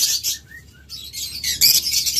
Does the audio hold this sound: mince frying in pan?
no